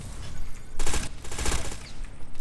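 Gunfire from the Tom Clancy's Ghost Recon video game rings out in two short, loud bursts of rapid shots over a noisy backdrop.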